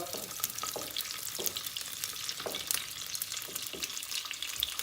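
Butter melting with a little vegetable oil in a hot pan gives a steady frying sizzle with faint crackles throughout, close and alone with no talk.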